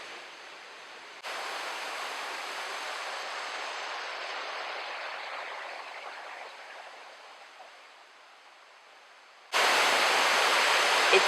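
A New Zealand waterfall where seal pups play pours as a steady broadband rush, moderately loud and unbroken, stepping up to a louder, nearer roar near the end.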